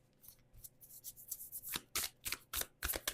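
Oracle cards for spell casting being shuffled by hand, a close, quiet run of crisp riffling bursts that grow sharper and more rhythmic toward the end, with no talking.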